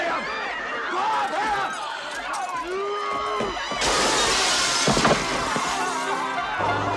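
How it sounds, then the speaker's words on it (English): Glass smashes loudly during an action movie fight scene, a bright burst of shattering with crashing impacts amid dense action-film sound and voices. "If there's one thing that all this broken glass has in common,"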